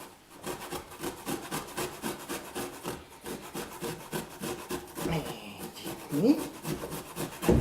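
Food being grated by hand on a kitchen grater, a close, steady rhythm of rasping back-and-forth strokes; a voice speaks briefly near the end.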